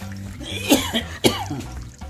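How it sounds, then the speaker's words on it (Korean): Two harsh coughs break out close by, about half a second apart, over quiet background hum, during homemade tofu making. "기침 소리 왜 그래?"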